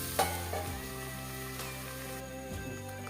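A steady sizzle of food frying in a hot pan, with a brief clatter near the start, continuous and close.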